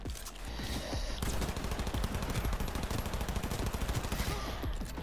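Rapid sustained automatic gunfire from a weapon in Cyberpunk 2077, a dense rattling stream of shots that runs nearly unbroken and loud for several seconds.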